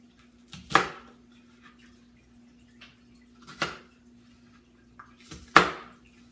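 A knife chopping an onion for Zuppa Toscana on a cutting board, three distinct, separate strikes a few seconds apart in a quiet kitchen.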